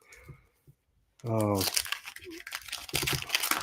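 A pack of vintage football trading cards is ripped open with a sharp crinkling tear of the wrapper, close up, with someone talking around it.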